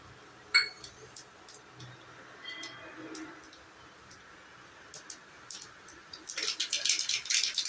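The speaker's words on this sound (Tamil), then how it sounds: "நல்லா கடுகுலாம் பொரியட்டும்." Mustard seeds, urad dal and pepper hit hot oil in a kadai, giving scattered small pops and ticks that build into dense, bright crackling spluttering near the end.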